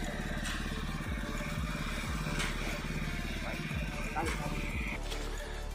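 A motor-driven water pump drones steadily and close by, draining water from a flooded site while concrete is poured for a chicken-claw house footing. The engine holds an even, throbbing hum for the whole stretch, with a voice faintly over it.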